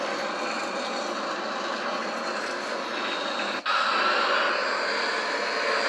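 Simulated Boeing 737-800 jet engines in Microsoft Flight Simulator X spool up as a steady, loud broadband roar with a constant whine, briefly dipping once before resuming, with no talk.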